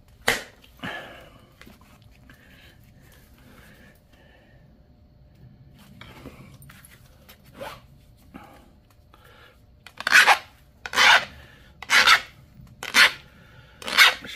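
Rasping strokes of a flintknapping pressure flaker being sharpened, likely against an abrasive, after quiet handling; five loud, evenly spaced close strokes follow in a steady rhythm near the end.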